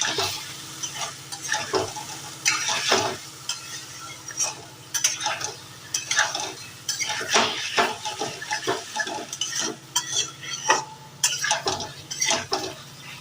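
Fried pointed gourds being stirred with spices in a pan, with repeated spoon scrapes and clanks over a steady sizzle, close and continuous for several seconds with no talk.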